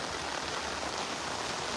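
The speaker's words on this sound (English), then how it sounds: "Look at this rain here. Lots and lots of rain here." Heavy rain pours down on a Monday morning in New Amsterdam, Berbice, a dense, even hiss of drops hitting surfaces all around, steady and loud with no talking.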